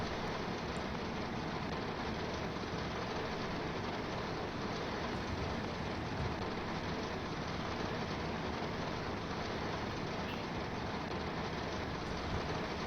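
Steady broadband rumble of a diesel passenger train under full power in the Train Sim World 4 simulator on the Seaford to Brighton line, a continuous even roar filling the whole stretch with no talk.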